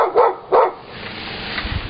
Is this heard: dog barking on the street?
yes